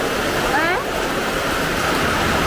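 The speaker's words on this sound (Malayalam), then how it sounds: "മഴ ശക്തി കൂടി" Heavy rain pours down in a broad, loud, continuous roar with no letup, and a voice briefly cuts in over it.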